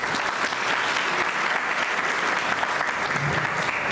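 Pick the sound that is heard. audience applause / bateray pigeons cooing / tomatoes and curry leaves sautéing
audience applause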